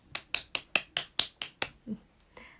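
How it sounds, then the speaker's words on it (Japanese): A run of about eight sharp hand claps close by in a quick, even rhythm, followed by a faint low murmur and a softer rustle. "拍手"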